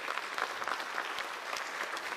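An audience at a school-district retiree reception gives sustained applause, a thick, even wash of many hands clapping at moderate distance with no break.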